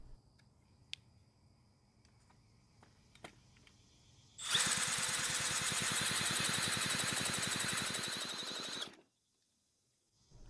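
A power drill cranks the engine of a Snapper string trimmer during a compression test, a loud, steady whirring drone lasting about four seconds and ending abruptly, preceded by faint clicks and handling noises.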